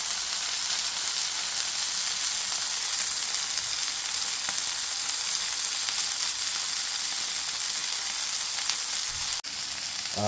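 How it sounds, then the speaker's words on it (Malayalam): Mutton burger patty frying in a pan as it browns on both sides, a steady close hiss of sizzling oil held for the whole stretch with no talk. "2 സൈഡ് നല്ലപോലെ മുരിഞ്ഞ് ബ്രൗൺ കളറായിക്കൊണ്ടിരിക്കുകയാണ്."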